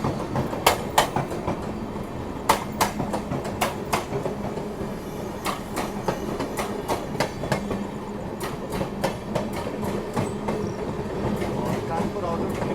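Rajdhani Express train running over rails near the Kanpur outer crossing, heard from inside the coach: a steady low rumble with sharp, evenly grouped clickety-clack wheel beats over the joints, repeating throughout.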